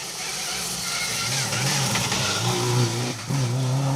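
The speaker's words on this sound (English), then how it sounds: "Mike Smith, Dave Ainsham in the Mitsubishi Evo 7." A 2001 Mitsubishi Evo 7 Ralliart rally car at a historic rally stage revs loudly and climbs through the gears, with a brief drop at a shift before the engine note rises again, close and continuous.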